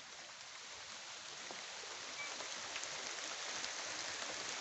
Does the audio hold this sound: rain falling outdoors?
yes